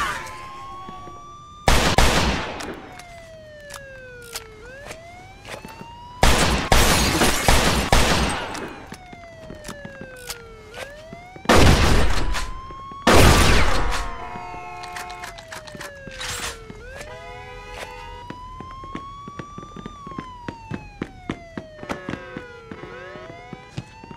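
Mafia II gameplay fills with police sirens wailing up and down as several loud bursts of automatic gunfire rip out in clusters, followed by scattered single shots and clatter.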